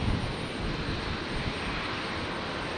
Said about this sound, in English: So maybe this Qantas 73 is going over.